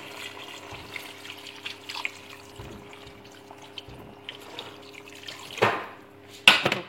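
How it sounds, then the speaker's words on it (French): Water poured into a cooking pot of vegetables and rice, a soft trickle under low background hum that ends in a couple of louder splashes, with a brief spoken word. "Et là, je vais rajouter de l'eau."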